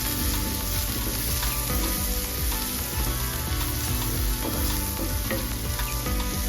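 Rice flour and coriander powder fry in a pan for a Kerala canned tuna masala, giving a steady close sizzle with soft stirring scrapes throughout and no voices.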